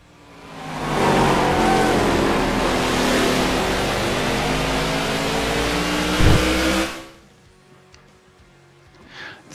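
NASCAR race car engine from the video game NASCAR The Game: Inside Line roars loudly and steadily for several seconds as it passes on track, then drops off abruptly to near silence.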